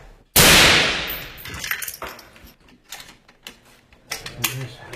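A single loud, sharp gunshot during the battle of Marawi, followed by fainter metallic clatter, scattered knocks and distant voices.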